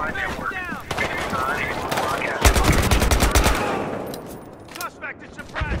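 Video game gunfire bursts out in a sustained automatic volley of closely spaced sharp cracks in the middle, loud and near, with a few isolated shots around it and voices talking over the fight.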